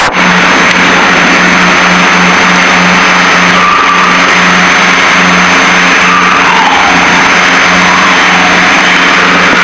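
The twin propeller engines of a Piper Seneca climb after takeoff, a loud, steady, droning hum with an even tone and slight beating between the two engines, heard from inside the cabin.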